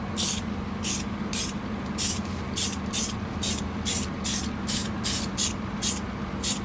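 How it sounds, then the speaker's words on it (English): Spray paint hisses onto a car part, coating it matte black, in a dozen short, regular bursts close to the can, with no talking. "So right now we are going to spray paint it black."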